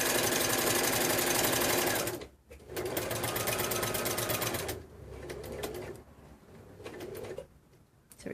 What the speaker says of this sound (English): put it all back under, needle back in, a reverse on the miter, and then I continue sewing